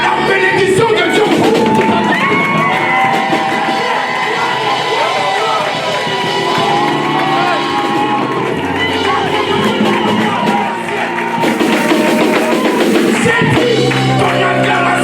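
A youth church congregation roars with cheers, shouts and whoops, a continuous loud crowd acclamation that swells and dips, with a surge near the end.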